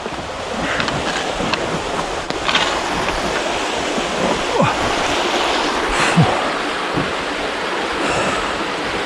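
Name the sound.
water flowing over a weir on River Soar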